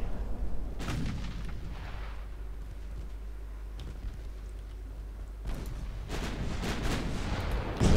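In the naval video game Ultimate Admiral Dreadnoughts, 4.2-inch naval guns fire as repeated booming blasts set against continuous rumbling battle noise, with several heavy reports clustered near the start and again toward the end.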